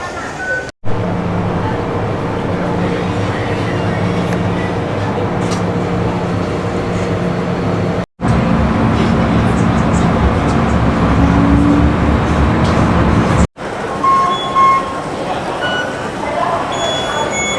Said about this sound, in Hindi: काफ़ी बड़ा स्टेशन है ये।